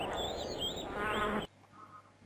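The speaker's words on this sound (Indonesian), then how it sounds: "Ada suara kayak burung, kayak ayam gitu." Synthetic chirping and quacking bird-like sound effects from RoboMind software play loudly for over a second, then cut off abruptly to faint background hum.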